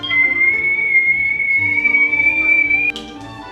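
A stovetop kettle whistles with a steady, shrill, piercing tone for about three seconds before cutting off abruptly, loud and alone.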